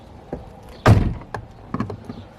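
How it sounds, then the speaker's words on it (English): A wardrobe door in an old hospital gives one loud thunk near the middle, followed by a few softer taps and knocks, close by and without talk. "Wardrobe door."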